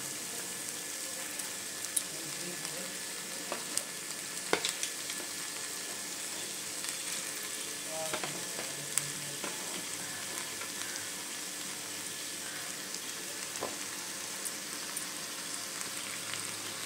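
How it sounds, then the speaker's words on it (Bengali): Chicken pieces fry in a pan with a steady, broadband sizzle throughout, dotted with occasional pops and crackles, heard close with no talking. "তো এটার মধ্যে আমি এবার চিকেনগুলোকে দিয়ে দেবো।"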